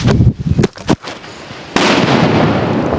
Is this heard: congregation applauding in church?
no